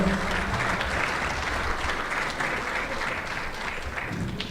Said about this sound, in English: Would you please help me welcome him with a round of applause?